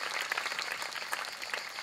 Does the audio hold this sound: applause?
yes